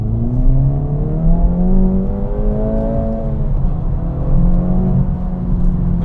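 A 2024 Acura Integra Type-S with a turbocharged engine revs hard under acceleration, its steady, rising engine note climbing and falling in pitch through the gears, loud and close, with no talking.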